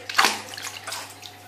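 Hands being washed under running water from a tap, a soft splashing rush with small irregular splatters, close and fairly quiet, with no talking over it.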